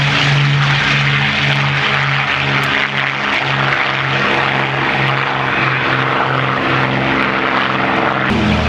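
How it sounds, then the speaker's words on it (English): Douglas Skyraider propeller warplane landing on grass at the Duxford airshow, a loud, close, steady droning engine roar with a throbbing low hum that holds throughout and shifts pitch at the end. "Skyraider landing on the grass."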